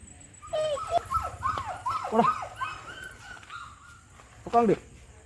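A dog whimpers and yelps in a run of high, whiny cries, then one more short burst after a pause.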